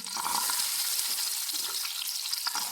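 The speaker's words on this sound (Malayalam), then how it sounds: "എണ്ണ ചൂടായിട്ടുണ്ട്. കുറച്ച് ഉള്ളി ഇട്ട് കൊടുക്കാം" Onions dropped into hot coconut oil in a pan, a dense, loud hissing sizzle that stays strong throughout and eases slightly toward the end, heard close with no speech.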